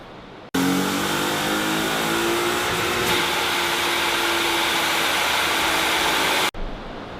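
Car on a dyno running race gas, engine held in one long loud pull of about six seconds that rises in pitch as it climbs, then cuts off abruptly, heard close with no talk.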